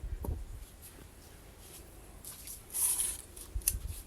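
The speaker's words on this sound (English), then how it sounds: "So I'll just go ahead and cut it." Scissors cut through a fabric strip for a bow tie scrunchie, giving a faint snipping and rustle of cloth with a brief louder crisp snip near the end, and no talking.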